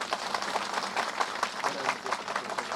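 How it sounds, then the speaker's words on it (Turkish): A municipal gathering gives a round of applause for a worker, a fairly quiet, rhythmic patter of clapping from a modest crowd, with faint voices murmuring underneath. "Bütün çalışanlar adına İsmail'e şöyle güçlü bir alkış alalım lütfen ya"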